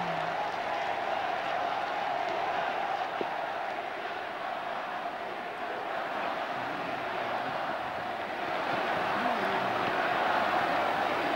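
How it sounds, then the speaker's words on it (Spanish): A vast crowd in St. Peter's Square applauds and cheers the newly named pope, a steady roaring wash of distant clapping and voices that swells slightly toward the end. "Ahí está el aplauso al nuevo papa, lo estamos viendo, está emocionado."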